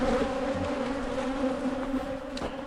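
Honeybees swarm and buzz close around hives during an inspection at a ranch, an agitated steady drone with individual insects whining past near the microphone, no voices.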